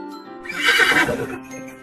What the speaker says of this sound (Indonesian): didatangkanlah Buraq, yaitu seekor hewan putih yang seperti kuda, yang kakinya sangat jauh juga melangkah.